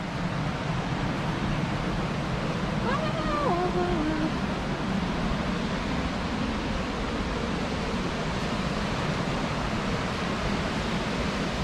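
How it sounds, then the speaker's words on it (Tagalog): Rushing river water at Taroko park in Hualien, a steady loud broadband roar that never lets up, with a brief faint voice early on. "Ang sarap pakinggan ng lagaslas ng tubig."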